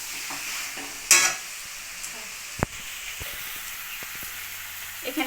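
Chicken with yogurt and spices fries in a pan, a soft steady sizzle broken by sharp scraping stirs and a few clanks of the spoon against the pan.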